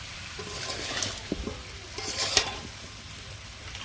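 Jaggery stirred and melting in a pan over a flame for raw mango pickle, giving soft scraping strokes and a low sizzle with a few brief clinks, close and quiet with no talk.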